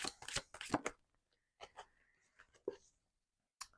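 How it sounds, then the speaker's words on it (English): Tarot cards being shuffled by hand: a few quick riffling bursts close up, then quieter, scattered card rustles and a final short flutter, with pauses between them. "I'm just randomly shuffling and this flew out."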